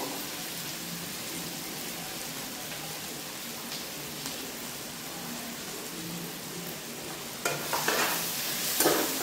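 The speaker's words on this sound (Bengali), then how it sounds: "গুঁড়ো জিরেটা দিয়ে একটু নাড়াচাড়া করি।" Ground cumin stirred into fried onion and tomato in a pan makes a soft, continuous sizzle, with louder scraping strokes near the end.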